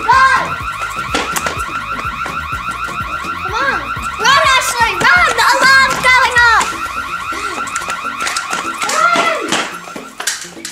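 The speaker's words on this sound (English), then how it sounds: "Oh no, the alarm's gone off." A toy alarm blares repeatedly in a doll play scene, loud electronic siren-like wails cycling over several seconds, with tapping of toy pieces and a voice talking over it.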